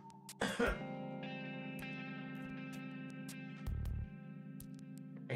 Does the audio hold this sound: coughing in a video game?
yes